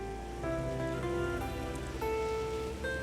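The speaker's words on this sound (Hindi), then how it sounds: "बारिश बहुत हो रही है।" Heavy rain falls at night as a steady, loud broadband wash that runs through the whole stretch, mixed with sustained musical tones.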